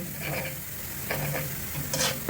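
Garlic sautés in a pan on its way to golden brown for pancit canton guisado, with a soft steady sizzle under scraping stirs that come in a few short bursts near the mic.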